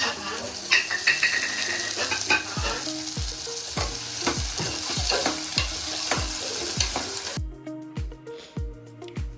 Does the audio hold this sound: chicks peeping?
no